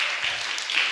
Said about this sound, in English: So let's give the Lord a hand clap for you.